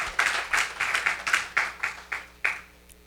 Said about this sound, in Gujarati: તો સ્વામીની સેવાને એક વખત તાળીઓથી આપણે વધાવીએ